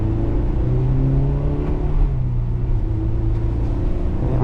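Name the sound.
2001 Honda S2000 AP1 engine revving while driving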